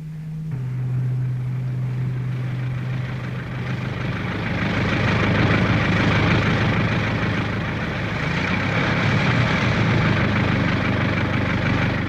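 An aircraft taking off, with a low steady engine tone that swells into a loud, broad, roaring rush which holds for several seconds, heard alone without voices.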